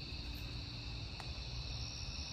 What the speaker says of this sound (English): You guys hear these crickets, though?